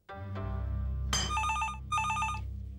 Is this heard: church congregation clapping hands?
no